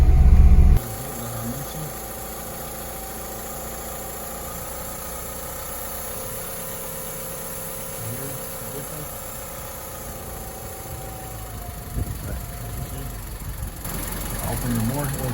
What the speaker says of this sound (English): You'll notice that the car is going to be idling funny.